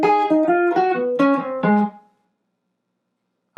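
A swing-style jazz guitar plays a short reversed enclosure line, about five or six clear picked notes in quick succession, then rings out and falls silent.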